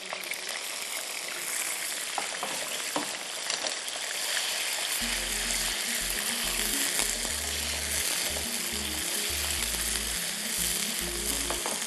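Onions and capsicum sizzle in hot oil in a pan, a loud, steady crackling fry that runs without a break, with low rhythmic thumping joining in about halfway through and no talking.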